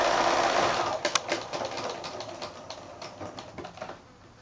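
A sewing machine stitches binding onto quilted placemats, a close, rapid mechanical clatter that starts loud and gradually slows and fades, with a brief voice at one point.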